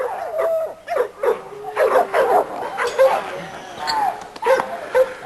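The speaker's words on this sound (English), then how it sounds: "She sure is a fine little dog." A small female dog at a hunting-dog yard barks and yips in short bursts with whimpering between them, close to the microphone, while someone talks over the noise.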